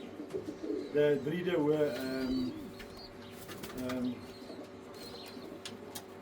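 Long-distance roller pigeons coo in low, throaty bursts around the two- and four-second marks, fairly close, with a voice talking over and between the calls.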